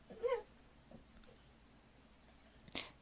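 A dog whimpers indoors in two brief, faint bursts, one near the start and one near the end, with quiet room tone between.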